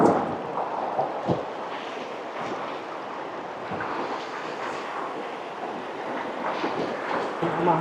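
Long, rocky river rapids in Laguna rush and roar toward a waterfall, a loud steady churn of water with wind buffeting the microphone throughout.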